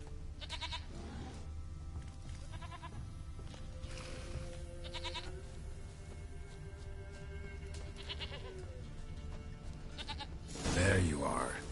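A goat bleats in a few quavering calls, fairly near and moderate in volume, set in the fantasy game Witcher 3 over a low ambient background, followed by a louder rustle near the end.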